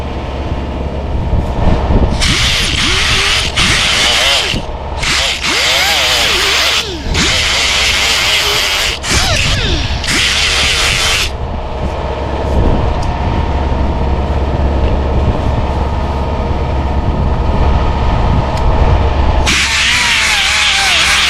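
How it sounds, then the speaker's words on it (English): An 80 grit sanding disc grinds against the metal two-stroke exhaust pipe of a 1983 Yamaha IT 175 in loud bursts, starting and stopping several times over a steady low rumble. "I went back over it with an 80 grit sanding disc and then back to my Scotch Brite disc"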